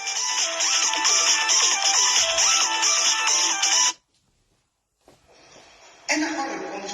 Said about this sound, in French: Attendez, son téléphone sonne.